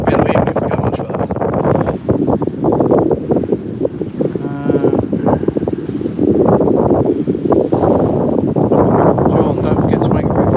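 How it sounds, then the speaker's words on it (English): Strong wind buffeting the microphone at the end of a lake, a steady loud rumble throughout with people talking over it. "given how windy it is at the end of the lake"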